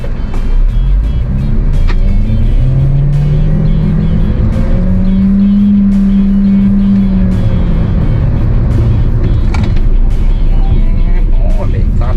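An MG HEV hybrid SUV accelerates hard in a 0-100 run, its engine note climbing steadily in pitch and then levelling off as a continuous loud drone, with road and wind noise throughout.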